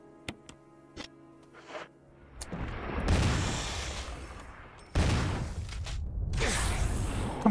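A shotgun being reloaded in Resident Evil HD Remake, with a few sharp mechanical clicks and clacks at the start, followed by a loud, rumbling noisy burst that swells, cuts out briefly and then returns, with no voices.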